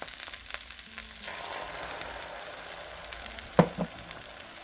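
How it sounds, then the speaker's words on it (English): An egg fries on a hot pan surface next to rice, giving a steady close sizzle and crackle. A sharp utensil clink and scrape cuts in near the end. "That way I can fry the egg right there."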